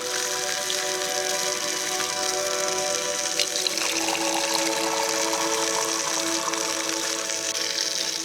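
Wine poured into a glass at a wild camp, heard as a steady, close liquid trickle and splash that runs unbroken for about eight seconds with no talking.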